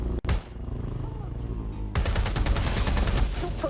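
Drone weapon firing in Watch Dogs Legion, a short sharp crack followed by a dense, loud, continuous rattle of rapid fire that grows stronger partway through and keeps going to the end.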